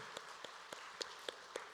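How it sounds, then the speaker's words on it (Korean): A small congregation at a Korean church's early-morning Holy Week prayer service gives a few sparse, scattered handclaps for its young people, about six separate claps spread out and faint. "우리 다음 세대들 한번 박수 한번 할까요?"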